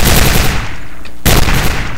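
Rapid, loud machine-gun fire from turrets in the shooter game Quake 4, a dense burst that briefly pauses and then resumes hard, heard close up with no talking.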